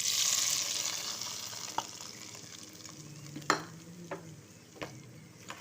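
Cashews and raisins fry for pongal, a soft hiss of frying that fades after the start, with a few sharp spoon taps and a scrape against the pan, quiet and close.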